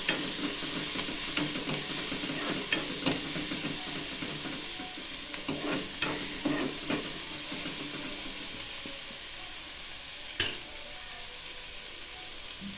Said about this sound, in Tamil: ஒரு வெங்காயம் தான் வதக்குறோம், கொஞ்சம் தான் காளானும் இருக்குது